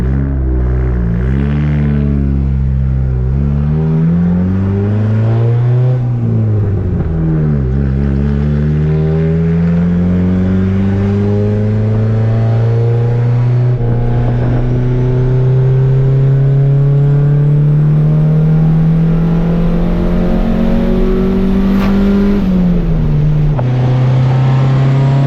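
A turbocharged Honda D-series single-cam engine revs up and down close by while being tuned. The tone rises and falls in repeated sweeps, ending in a long climbing pull, loud and alone with no talk.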